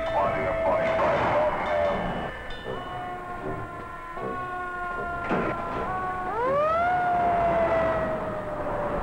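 A 1979 fire engine siren wails during an emergency response, rising and falling in long sweeping tones over a rumbling engine and traffic noise, moderately close and continuous.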